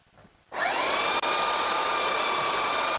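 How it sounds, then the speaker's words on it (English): Power sander switches on abruptly and runs as a steady, loud, high-pitched whine while smoothing oak with sawdust-packed gaps, close and continuous until it cuts off at the end. "And when you run the sander over it again,"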